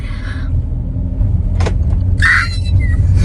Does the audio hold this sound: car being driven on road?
yes